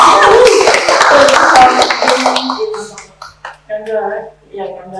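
A festival panel audience claps for a woman, a brief burst of close, fairly loud claps mixed with voices that fades after about two seconds, leaving people talking.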